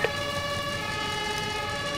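An ambulance siren in the Emergency 5 rescue video game wails steadily and fairly loud, alone without speech, over a constant mechanical drone.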